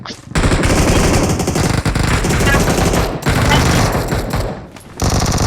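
A minigun fires in a video game as a loud, dense, continuous rattle that runs with only brief breaks and stops near the end before bursting again.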